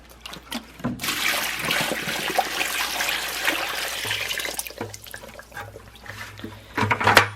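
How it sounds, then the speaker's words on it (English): Water is poured into a bucket of shredded recycled paper, a loud steady splashing gush lasting several seconds that tapers into trickles and a few knocks. "Then you're going to add water to the mixture."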